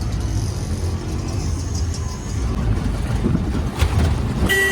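Steady engine rumble and road noise from inside an auto rickshaw riding through Dombivli streets toward evening, with faint traffic sounds and a brief horn near the end.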